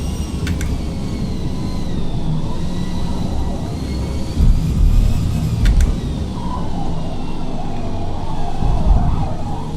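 Car tires squeal in Forza Motorsport, a wavering high-pitched screech running under a loud, steady engine roar during a race.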